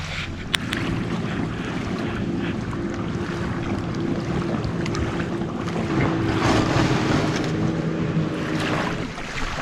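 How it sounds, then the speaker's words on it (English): Lake water laps steadily at a shoreline at Lake James State Park, North Carolina, a continuous washing sound mixed with gusty wind buffeting the microphone. "Do you guys hear that water? Not quite ocean waves, but it's pretty nice."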